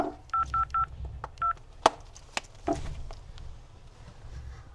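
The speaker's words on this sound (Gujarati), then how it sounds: "હું હમણાં ફોન લગાવું ને" Four quick telephone keypad tones beep in succession, followed by handset clicks and light handling noises nearby.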